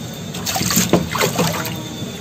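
An alligator gar kept as a pet fish snaps up food at the water surface in a few quick splashes and gulps over a steady trickle of tank water, close and clear.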